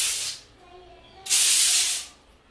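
Two bursts of hissing aerosol Holi colour spray from a can, a short one and then a longer one of almost a second, with a quiet pause between.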